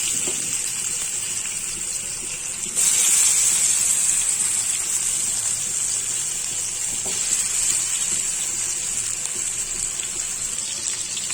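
Fish pieces for a crispy Hyderabadi fish fry drop into hot oil, raising a loud, steady sizzle that jumps sharply near the three-second mark and keeps hissing evenly, with no voices.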